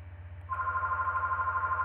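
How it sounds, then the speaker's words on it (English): A telephone rings with an incoming call: a steady electronic tone starts about half a second in and holds over a low background hum. "Phone call."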